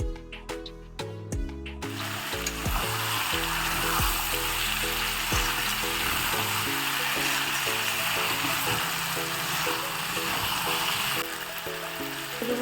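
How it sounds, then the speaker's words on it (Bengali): Chicken sautéing with ginger garlic paste in a pan for chicken kosha makes a constant hissing sizzle, moderately loud, with melodic background music playing over it throughout. "আদা রসুনের পেস্টটা দিয়ে দিয়েছি ভালো করে কিন্তু আরেকবার কষিয়ে নিব"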